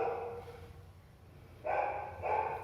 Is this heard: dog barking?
yes